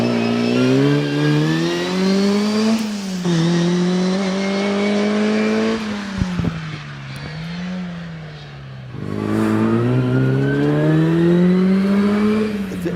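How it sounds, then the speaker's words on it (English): Healey Sprite racing car climbing the Prescott hillclimb: a loud, close engine holding high revs, pitch rising through each gear and dropping sharply at the upshifts, with one longer dip and climb midway. "Paul Aymer on the hill currently in this Healy Sprite going well."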